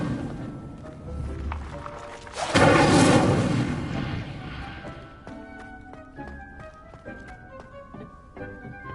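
Incendio fire spell cast in Hogwarts Legacy, a sharp whooshing burst of flame swelling loudly after quieter game sounds, then fading into scattered small crackles and tonal chimes.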